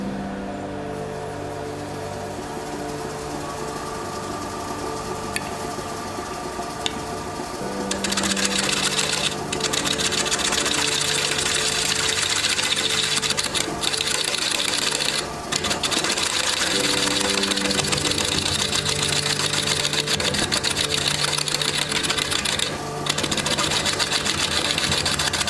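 A wood lathe finish-turning a 20-inch natural edge pecan bowl hums steadily, then a louder, rougher scraping tone sets in as light cuts bite the spinning wood, with brief breaks between passes.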